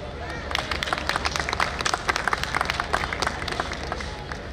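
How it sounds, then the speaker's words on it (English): Audience applause at an annual school function, a crowd clapping in a busy rolling wash over murmuring voices and hall noise, swelling in the middle and tapering toward the end. "Give them a big round of applause."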